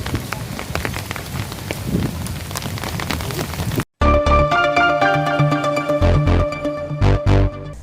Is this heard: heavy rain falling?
yes